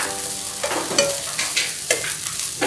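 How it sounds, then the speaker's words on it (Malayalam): Small amount of grated coconut roasting in a pan for a banana snack, with repeated scraping stirs of a spoon over a soft, steady sizzle, close and clear with no talking. "അതിലേക്ക് കുറച്ച് ചെറിയ തേങ്ങ ചേർത്ത് കൊടുക്കുക. അതൊന്ന് ചെറുതായിട്ട് റോസ്റ്റ് ചെയ്തെടുക്കണം."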